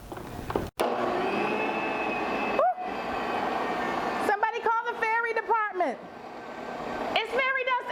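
An electric mixer whirs steadily while beating powdered sugar into a simple four-ingredient frosting. The motor drone runs almost throughout, with a short break, and someone talks over it.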